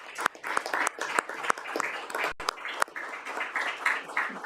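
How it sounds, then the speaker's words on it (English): Applause from attendees at a city council meeting, a moderately dense round with sharp individual claps standing out above the crowd. "Let's give them a round of applause."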